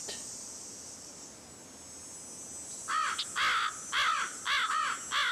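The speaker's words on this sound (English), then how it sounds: "Well, I hear a bird." Bird calls from the Nancy Drew game Ghost Dogs of Moon Lake: after a few seconds of steady ambient hiss, a series of about five loud, harsh caw-like calls arrives in uneven bursts, close and clear.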